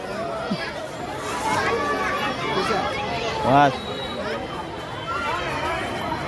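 A busy crowded place where many people chatter at once in a steady hubbub, with a few louder voices and brief shouts rising nearby above the general murmur.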